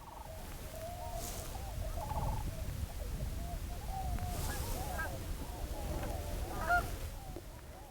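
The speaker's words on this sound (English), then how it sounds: "way out in the distance there are some swans" Tundra swans calling as a flock on icy spring water, a far-off chorus of repeated honking and whooping notes over a low background rumble.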